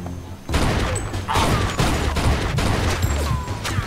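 Gunfire in the video game Mafia 2, a burst of loud close shots and rattling bangs that continue through the clip over a low game soundtrack.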